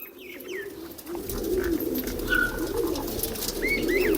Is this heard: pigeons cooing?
yes